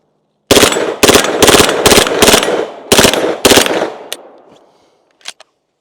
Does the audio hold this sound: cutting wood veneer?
no